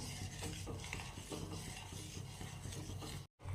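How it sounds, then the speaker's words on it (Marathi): Continuous scraping and clinking of a spoon stirring rice flour dough in a pot on a gas stove, close and busy, with a brief cut-out near the end. "फक्त ह्याला सारखं असं ढवळत राहायचंय"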